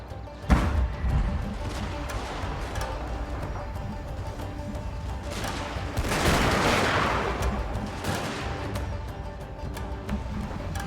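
Naval artillery in Shogun 2: Total War fires in a dense, rumbling barrage, with a sharp opening blast followed by overlapping booms and crashing impacts that swell midway, continuous and loud with battle noise throughout.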